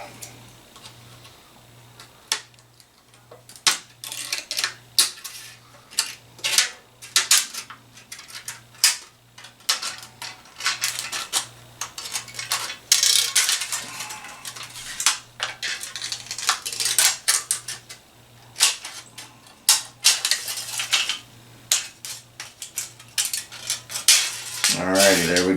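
Scissors snipping through thin aluminium Coke cans to cut out pieces for a Christmas tree craft, with many sharp metallic clicks and crinkles in an irregular run, close and fairly loud over a steady low hum.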